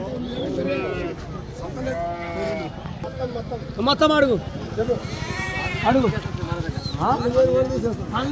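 Sheep and lambs at a busy sheep market bleat repeatedly, several calls near and far, under almost continuous talk from people nearby.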